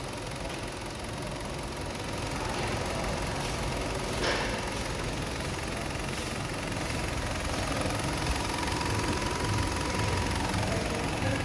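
A Hyundai Elantra engine idles with an even, continuous hum and faint mechanical ticking, steady and unchanging, recorded close with no talking.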